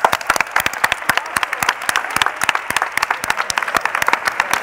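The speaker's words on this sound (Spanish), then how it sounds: "Un aplauso." An audience at a tech conference's closing and awards ceremony claps steadily, individual sharp claps standing out over a continuous wash of applause throughout.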